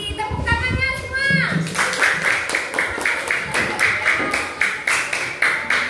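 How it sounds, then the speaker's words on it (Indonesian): Children clapping together in a classroom, a run of quick rhythmic claps in unison after a voice, close and fairly loud. "tepuk tangannya semua"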